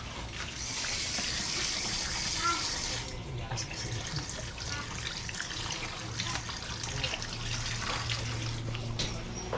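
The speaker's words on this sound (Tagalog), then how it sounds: "Oh, sige, hugasan mo na muna dyan." Tap water runs steadily into a sink as ingredients for bopis are washed in a rural home kitchen, a continuous close splashing stream with some scraping and handling noises mixed in.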